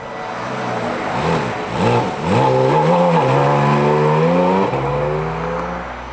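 A 2023 Porsche 718 Cayman GT4 RS roars loudly up through the revs in rising sweeps, shifting several times with strong harmonic engine notes before settling into a steady drone, with no talk over it.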